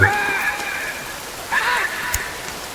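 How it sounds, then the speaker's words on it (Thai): Steady video-game rain hiss runs throughout, with a tonal hum and a brief burst mid-clip; no talking. "ฝนตกแรงขึ้นนะเพื่อน"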